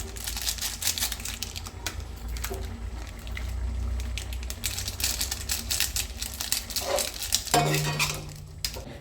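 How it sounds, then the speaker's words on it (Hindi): Boiled Maggi noodles being stirred in a pan after the packet masala goes in, with a continuous close scraping, clinking and wet stirring noise and a faint sizzle, no talk. "अब यहाँ पे अपना मसाला डालते हैं जो पैकेट वाला था।"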